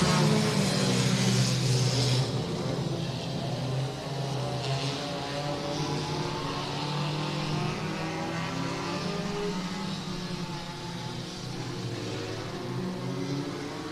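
Race cars at Hibbing Speedway roar steadily in a dense, continuous engine drone as the pack runs its opening lap, loud and sustained throughout with no clear talk.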